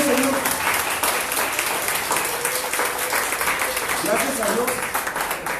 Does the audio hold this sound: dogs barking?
no